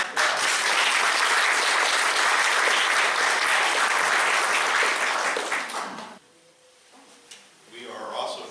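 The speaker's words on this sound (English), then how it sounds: "So let's give her a round of applause." An audience at a society's annual meeting gives a loud, sustained round of applause lasting about six seconds, then it fades out abruptly into a quiet room with a few faint sounds.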